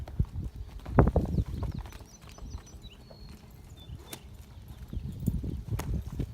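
A horse's hooves clip-clop on the ground during training work on a 12-foot shank, with a loud cluster of steps early, quieter footfalls through the middle and another burst of steps toward the end.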